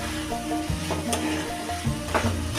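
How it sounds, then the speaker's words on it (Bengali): Fried vegetables dropped into hot spice paste for a paneer dish, a sizzle of oil with stirring scrapes and a couple of sharp clinks from the pan, close and steady. "এবার ভেজে রাখা সবজিগুলো দিয়ে দিলাম।"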